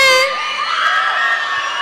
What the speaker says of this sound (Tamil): இப்ப நாங்க சொல்றதுக்கு நீங்க அரகரா மட்டும் சொல்லுங்க.